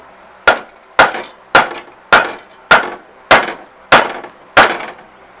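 Eight evenly spaced, sharp metallic hammer blows flatten rivets on the knife sections of a Maschio Gaspardo sickle bar mower. Each blow rings briefly and is heard close and alone.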